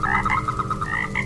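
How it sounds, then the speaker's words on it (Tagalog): A frog croaks on a rainy night, a quick run of throaty, rapid pulsing croaks, loud and close, lasting just over a second. "may naririnig sila tita na kokak ng palaka"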